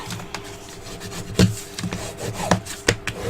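A tool burnishes and rubs along a paper fold while a gift box album is being made, giving short scraping strokes of uneven loudness, with a couple of sharper rubs standing out, close and with no talk.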